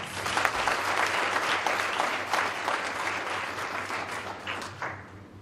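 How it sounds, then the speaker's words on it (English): An audience at a career-development programme event gives a sustained round of applause, many hands clapping briskly and evenly for several seconds before tapering slightly at the end, with no speech over it. "Can we give them a round of applause?"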